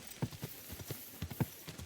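Horse hooves clip-clopping in the Kingdom Come: Deliverance II video game, a quick irregular run of close hoofbeats with no talk over them.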